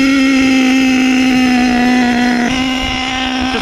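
A nitro engine on an HPI Savage XL RC truck runs steadily near and loud at a high buzzing idle, its pitch dipping slightly and shifting partway through, with no voices.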